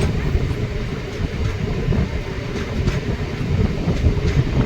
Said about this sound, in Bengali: ট্রেনটা ছোট মেমু ট্রেন